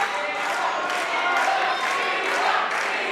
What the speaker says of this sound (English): this crowd is deafening here, Sean